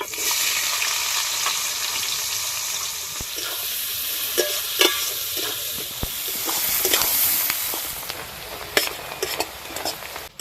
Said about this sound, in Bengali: পেঁয়াজ একটু ভাজা ভাজা করে নিয়েছি।